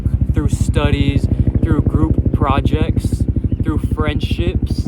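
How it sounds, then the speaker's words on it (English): A helicopter flies overhead, its rotor thumping in a fast, even pulse that runs the whole time beneath continuous talking. "Excuse the helicopter"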